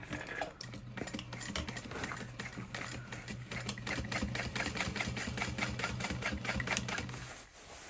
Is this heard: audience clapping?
no